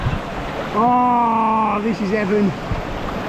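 Mountain stream water rushes off a small waterfall in Glen Etive in the Scottish Highlands, a steady broadband wash, while someone speaks in a drawn-out voice over it.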